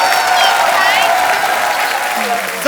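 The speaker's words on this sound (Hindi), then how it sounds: "और श्रद्धा कपूर और अर्जुन कपूर के लिए जोरदार तालियां।" Studio audience applause on a Hindi comedy talk show, a dense steady wash of clapping lasting the whole moment with a host's voice faintly over it.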